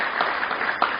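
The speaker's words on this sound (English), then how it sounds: "I really needs a big applaud on that part" Audience applause at a talk on prayerful living, a steady dense wash of clapping running through the short moment without a break.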